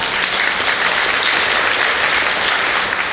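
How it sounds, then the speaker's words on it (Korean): Steady, dense applause from an audience welcoming guests at a biennale forum, loud and sustained throughout with no break. "큰 박수 부탁드립니다"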